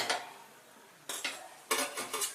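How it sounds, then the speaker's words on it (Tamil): A ladle scrapes and clanks against a metal kadai while jaggery is stirred into water to dissolve, in four short bursts of clatter with quiet gaps between, close and fairly loud. "இந்த வெல்லத்தை நல்லா கரைச்சிக்கணும்."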